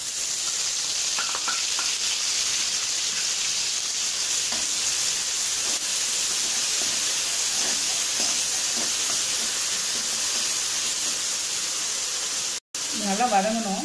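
Onion paste fried in oil with bay leaf, cinnamon, cloves, cardamom and cumin for a chicken kofta curry, a steady broad sizzle running without a break, with a brief clatter of stirring near the end.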